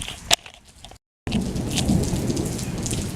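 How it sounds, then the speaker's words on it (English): Thunder cracks sharply during an evening rainstorm that cancels an outdoor concert. After a brief dropout, heavy rain hisses steadily and loudly, and no one speaks. "That was this thunder you just heard."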